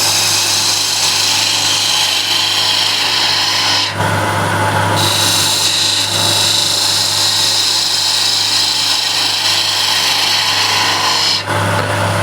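A woodturning lathe cutting a very hard piece of wood into a concave shape, giving a loud continuous scraping, rasping hiss that drops out briefly and then resumes.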